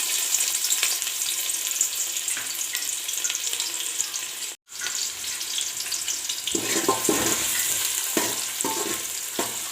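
Finely sliced onion frying in oil in a pot, a loud, continuous sizzle with stirring scrapes and a brief dip in the middle, getting more clattery toward the end.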